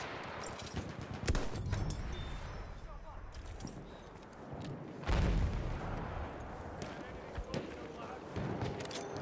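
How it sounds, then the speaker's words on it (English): Enemy machine gun firing in a video game battle, bursts of rattling shots and heavy impacts, with loud blasts near the start and middle, over a busy background with voices speaking. "Enemy machine gun!"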